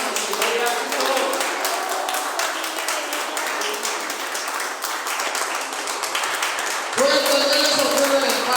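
A church congregation claps hands in fast, steady rhythm, loud and close, while a preacher talks over the clapping throughout.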